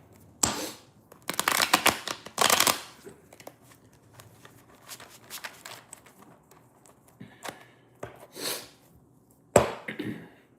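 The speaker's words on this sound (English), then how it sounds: "Do a quick shuffle." Tarot cards being shuffled by hand in several short, crisp bursts of riffling and snapping, separated by quieter gaps, close and with no talk.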